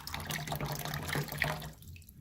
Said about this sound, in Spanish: Salió mucha agua, ¿no?